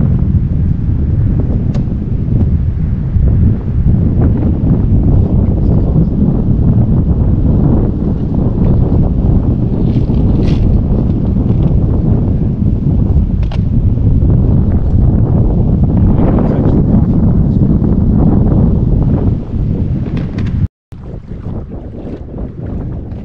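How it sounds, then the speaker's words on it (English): Wind blowing over Detroit Lake while out on a boat, heavy rumbling wind buffeting the microphone continuously and loudly, with a brief dropout near the end. "A little windy out here."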